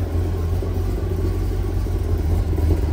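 A Chevy 350 V8 fitted in a 1971 Triumph TR6 hot rod idles nearby, a steady, deep low rumble holding constant without revving or speech.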